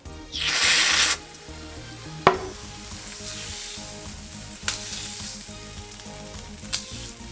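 A burst of rapid liquid rattling near the start as a bottle of V-line sparkling booster essence is shaken, then a few sharp clicks and light handling knocks over a quiet background.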